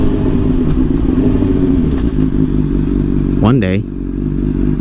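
Honda CBR600RR sport motorcycle with a flashed ECU cruising on an open road, its engine droning loud and steady throughout with a brief rev rise near the end, while a rider talks briefly over it.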